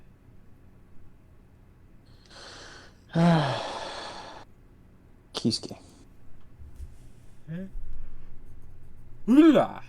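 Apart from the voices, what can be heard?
yawn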